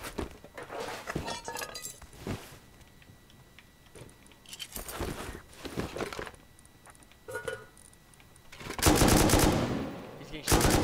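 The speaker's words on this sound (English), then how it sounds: "That's him being shot at" Video game gunfire hits a player on an oil rig: several bursts of rapid shots come in uneven clusters, with the heaviest volley near the end, mixed with faint clinks and quiet background talk.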